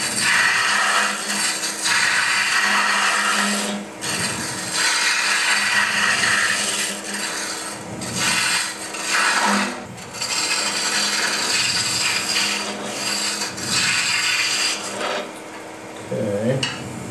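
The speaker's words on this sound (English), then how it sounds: "I usually use a roughing gouge. It's my favorite tool for stuff like this." A roughing gouge cuts a wood spindle turning on a lathe, giving a steady close scraping, rasping hiss that runs almost the whole time with brief breaks as the tool lifts and re-engages.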